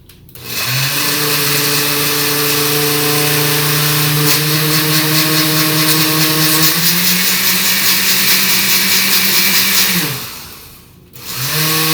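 A kitchen blender runs at a high setting for about ten seconds, a loud steady whirring whine that shifts pitch slightly as the mix smooths, starting and stopping abruptly.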